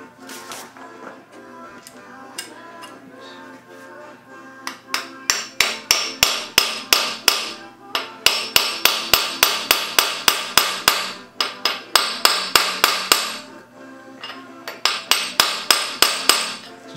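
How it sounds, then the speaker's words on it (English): A hammer strikes a punch to drive a press-fit plug into an engine during a cam install, loud metallic blows in quick rhythmic bursts, several dozen in all with short pauses between runs. "we're going to use a hammer"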